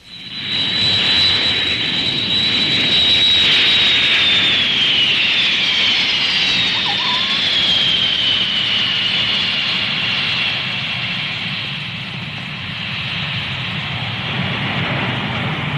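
Airplane jet engines whine and roar loudly up close, a high turbine tone sliding slowly downward over a broad steady rumble that eases slightly toward the end, with no talk.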